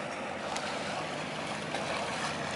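Boat wake waves from passing barges: continuous rushing wash of water and churning waves, loud and close, with a steady motor-like drone underneath.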